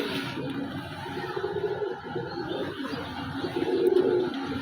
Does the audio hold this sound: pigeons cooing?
yes